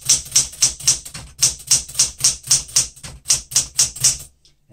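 Keys clatter on a cleaned, lubricated 1970s Smith Corona Galaxie Deluxe manual typewriter, a brisk, even run of about twenty loud, crisp strikes heard up close and alone.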